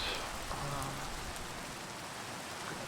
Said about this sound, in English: I'm really not a fan of all this rain.